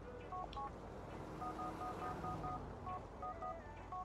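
Telephone keypad tones from the game GTA 4, a quick run of short dialing beeps in irregular rhythm, faint and clean over a low background hum.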